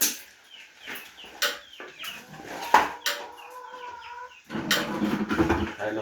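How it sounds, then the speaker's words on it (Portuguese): Chickens clucking on a farm on a rainy day while cows are being milked: a run of short, repeated clucks and squawks, near and moderately loud, with a denser burst of clucking near the end. "É lugar, galinha?"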